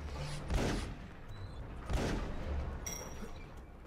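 Blunderbuss blasts fired during play of the video game Tom Sparks and the Quakes of Ruin, two heavy booming shots about a second and a half apart, fairly faint, with game ambience and chirpy effects around them.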